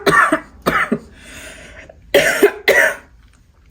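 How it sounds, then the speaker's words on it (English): A person coughs several times in short harsh bursts, two close together at the start and a pair more near the end, with a throat-clearing rasp between them, close and fairly loud. "excuse me, I'm about to cough."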